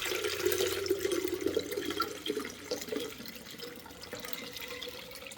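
A homemade fermented drink is poured off through a strainer, making a steady splashing trickle of liquid that is strongest at the start and then eases into a softer, uneven dribble.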